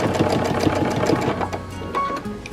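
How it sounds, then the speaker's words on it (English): A sewing machine stitches pale yellow fabric with a steady, close, rapid mechanical chatter that slows and stops near the end. "my presser foot and my needle are now coming to stitch my pale yellow fabric"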